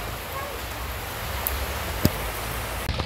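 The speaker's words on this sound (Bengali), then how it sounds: "ও ভাই হঠাৎ করে আবার বৃষ্টি শুরু হয়ে গেছে" Steady rain falls outside at a village home, a soft continuous hiss with occasional faint drips, moderately close and unbroken.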